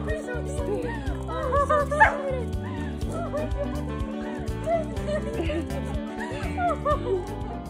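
Jackson the dog, reunited with his owner after being stolen for four months, lets out excited yips, whimpers and short barks in quick bursts, close by, while people talk and laugh around him.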